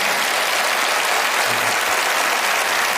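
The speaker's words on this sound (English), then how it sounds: "Give yourselves a big round of applause." Studio audience at a magic show applauding, a dense, loud wash of clapping that holds steady from start to finish without letting up.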